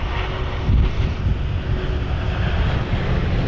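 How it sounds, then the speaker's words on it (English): Aircraft engines roar during a go-around at London Heathrow in Storm Kathleen, a loud, sustained broadband rumble mixed with heavy wind buffeting, with no voices. "This is going to be a go-around by the looks of it."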